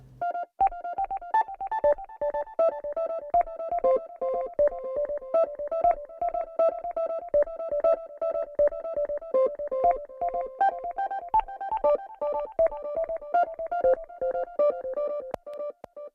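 A pew pew synthesizer track with added delay plays alone, a steady run of short, bright plucked blips in a quick repeating pattern, each note trailing echoes, fairly loud and even throughout.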